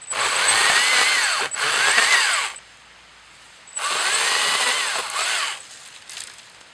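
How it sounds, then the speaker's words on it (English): A small battery-powered Stihl MSA 120 C chainsaw buzzes loudly cutting wood in two long bursts, pausing briefly between them, then cuts again before trailing off, with no talking. "And as you can see, super duper good chainsaw."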